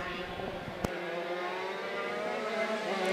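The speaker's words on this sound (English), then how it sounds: "Axton runs in the number 2 spot, open 125 Shifter, S4 Supermasters" Open 125cc shifter racing karts run at the LAKC season opener, their engines a steady droning whine at a moderate distance, with a person talking over the engine noise.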